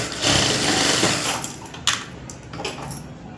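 A sewing machine stitching an embroidered blouse runs in a fast, continuous mechanical rattle, close up and fairly loud, with a few sharper clicks along the way and no voices.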